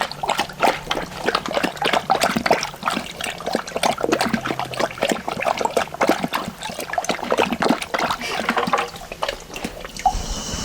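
Water dripping and splashing from a dog's mouth after drinking, a close, busy patter of drips and trickles that continues steadily throughout.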